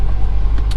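A 1999 Chevrolet C5 Corvette sits with its engine running, giving a steady low idle rumble close by. It is short and even, with no revving and no speech.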